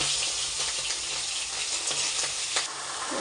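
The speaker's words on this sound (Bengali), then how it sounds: "মাছের মুড়োটা ভালো করে ভেজে নিই।" A fish head fries in hot oil in a pan, giving a loud, continuous close-up sizzle with a few soft bumps from stirring, and no talking.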